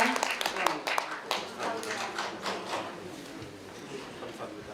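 An audience claps in a dense, steady patter at a 2024 Korean arts and culture awards ceremony, starting strong and gradually fading, with a voice speaking over it.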